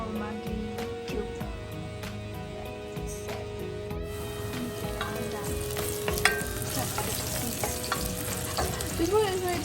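Squash, celery and broccoli sizzle and fry in a hot pan outdoors, with steady crackling, scraping and stirring clatter and a few sharp clicks, close and moderately loud.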